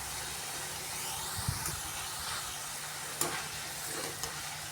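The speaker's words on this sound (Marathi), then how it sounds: "याला मस्त गोल्डन ब्राऊन होईस्तोवर तळून घ्यायचे आहे" Homemade potato chips deep frying in hot oil, a soft steady bubbling sizzle heard close, broken by a few faint clinks and taps, with no voices.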